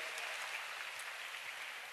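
Audience applause for a group of guitar players at a sitar concert event, a soft, distant, even patter of many hands clapping throughout.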